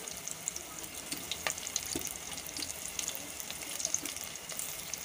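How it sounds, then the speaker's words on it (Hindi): Spinach pakoras frying in hot oil, a steady soft sizzle and crackle with scattered small pops, heard close and moderately loud with no talking. "पालक के पकोड़े हमारे सिकना शुरू हो चुके हैं"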